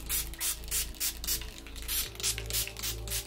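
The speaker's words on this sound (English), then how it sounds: "Now I'm gonna get this Frizzies heat defense protecting spray, and I'm just going to spray it all over the ends" Frizzies heat defense protecting spray misted over the ends of the hair in repeated short pump bursts, about six hissing sprays in quick rhythm, close and clear with no talking.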